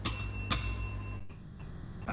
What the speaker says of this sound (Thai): อันนี้คือเสียงกริ่งนะครับ